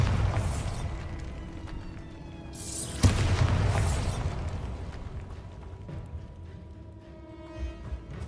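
A Bombarda explosion spell goes off twice in the Hogwarts Legacy video game, each blast a loud boom that decays into a rumbling tail.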